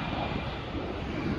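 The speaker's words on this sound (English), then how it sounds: "So you've got Virgin planes and Delta planes up here." Jet aircraft engines roar at Heathrow Airport, where Virgin and Delta airliners sit, a broad steady rumble filling the short moment with wind across the microphone.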